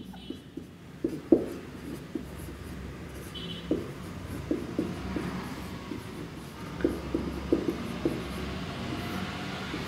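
Chalk or marker scratches and taps across a classroom board in short irregular bursts, fairly close and moderately loud, over a quiet room hum.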